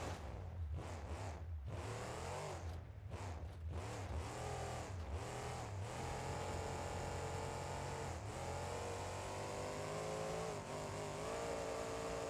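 Monster truck with a heavy Barstow engine rated at 1800 horsepower driving in BeamNG.drive, a loud continuous engine roar revving up and down repeatedly early on, then holding a steady high drone.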